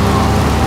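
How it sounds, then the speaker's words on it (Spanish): Steady rain in the video game Grand Theft Auto III, a dense continuous hiss with no voices. "Ay, mamá, me estoy mojando. Está lloviendo"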